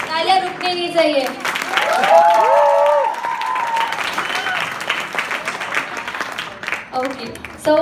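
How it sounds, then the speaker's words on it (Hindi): Audience applause at a modeling show grand finale in Udaipur, a broad wash of clapping and crowd noise running under a host's amplified voice and tonal music for most of the stretch. "Big applause for him."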